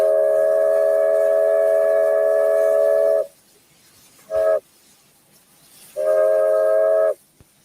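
A train whistle sounds three times: one long blast, a very short toot, then a medium blast, each a steady, loud multi-tone chord with silence between.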